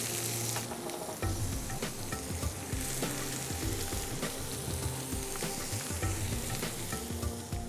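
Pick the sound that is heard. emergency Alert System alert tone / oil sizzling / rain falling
oil sizzling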